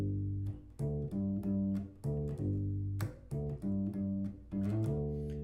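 A bass guitar plays a song's bass line, a close, clear, rhythmic run of plucked low notes repeating a short pattern over about five seconds, with no voice.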